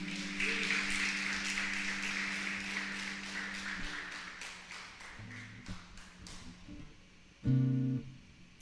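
A church congregation claps and applauds during a worship service. The dense clapping starts strong and fades over several seconds while sustained musical tones hold underneath, ending with a brief louder swell.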